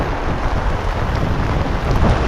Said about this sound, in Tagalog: Mainit na mainit tapos biglang ibubuhos.